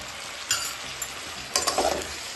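Spiced potatoes with turmeric, red chili and garam masala are stirred in a pan, a soft scraping and light sizzle with a couple of brief louder stirring bursts, close and alone.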